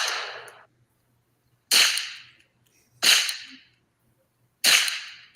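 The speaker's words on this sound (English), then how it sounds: "There's multiple recordings of gunfire." Recorded gunfire played back in an old police building, four sharp cracks spaced about a second apart, each with a short decaying tail, loud and alone with no talk.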